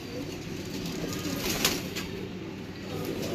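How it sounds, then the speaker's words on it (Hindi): Soft pigeon cooing murmurs steadily over a busy outdoor background, with a brief louder flutter midway; several birds close by. "कबूतर खुश हो गए"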